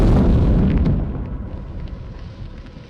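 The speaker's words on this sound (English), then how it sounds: "Such a system was found in a dense forest and was spectacularly destroyed by a HIMARS strike." A heavy, booming HIMARS missile strike explosion hits at once in a dense forest, then rumbles and crackles as it slowly fades away.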